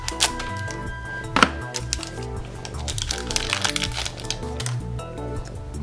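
Cardboard and plastic packaging of a Nexus 5 phone box being cut open, with crackling, crinkling and snapping as the wrap is sliced and pulled, including one sharp crack near the start and faint talk in the background.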